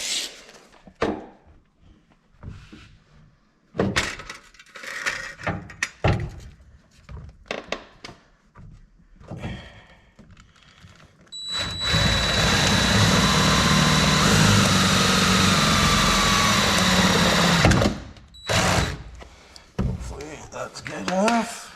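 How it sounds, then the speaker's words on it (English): A power drill boring a hole through thin metal at the bottom of a GMC AT4X wheel well, a loud, steady whirring grind lasting several seconds, preceded by clattering handling noises and talk. "Now we just got to drill the hole in the bottom. This hole here in the metal."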